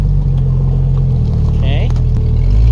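A Jeep engine drones loud and steady as it climbs a steep, snowy trail, the low rumble holding constant and swelling slightly near the end, with voices talking over it.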